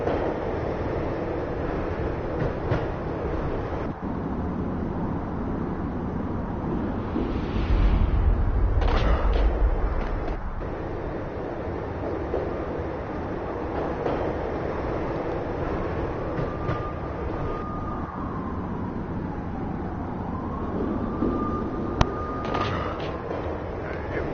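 A train slowing down in the Max Payne video game, a steady broadband rumble with a low heavy surge near the middle and gliding whining brake tones toward the end, continuous and fairly loud.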